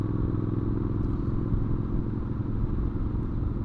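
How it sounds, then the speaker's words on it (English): Older Triumph Bonneville motorcycle under way with a replaced air filter and the snorkel removed, giving a steady, dense engine drone and intake rumble that stays loud and even throughout, with no talk over it. "You get a little bit more induction noise,"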